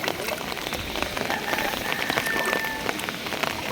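Heavy rain falls steadily outdoors, a dense, even hiss of drops striking surfaces close by, with occasional louder splashes and no talking.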